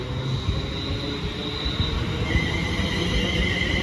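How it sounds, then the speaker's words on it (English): A London Northwestern Railway class 350 electric multiple unit passes through Bletchley station, its wheels squealing high and steady over a loud continuous rumble of railcars, with no talking. "There goes the 609 London Northwestern Railway service to Milton Keynes Central only from London Euston."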